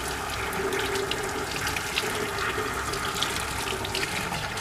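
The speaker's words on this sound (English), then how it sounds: "So right now I'm just kind of soaking with hot water." Hot tap water runs steadily over a sticky, spill-damaged MacBook Pro keyboard, a continuous close splashing hiss with no pauses and no voices.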